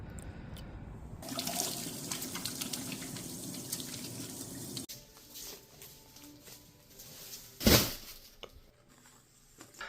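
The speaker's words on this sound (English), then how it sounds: "just gonna fill up this little water dish for the lizards" Water runs from a tap outdoors into a small water dish for lizards, a soft steady splashing stream that cuts off partway, followed by quieter handling noises and one brief louder clatter.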